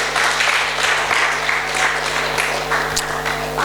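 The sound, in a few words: congregation clapping hands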